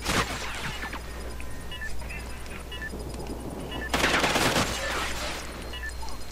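Video game gunfire rattles faintly in the background at a low level, with a louder burst of rapid shots partway through.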